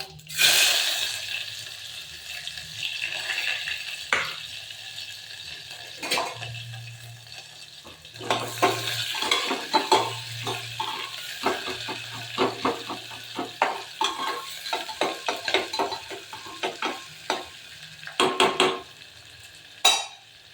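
Onion hits hot oil with cumin in a pan and sizzles, followed by a long stretch of steady frying broken by bursts of scraping, clattering stir strokes, close and moderately loud, with a low hum underneath and no speech.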